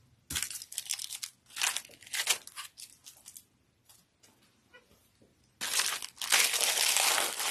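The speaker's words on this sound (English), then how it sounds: "now I'm going to cut a little mesh" Decorative mesh for an Easter bunny rail is cut and handled at close range, giving bursts of crisp crinkling and snipping with brief pauses, then a longer loud rustle.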